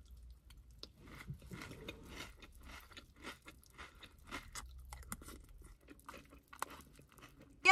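Rice Krispies and Cocoa Pops in milk being chewed, giving soft, quiet crunches and wet mouth sounds at an irregular pace, close up with no talking.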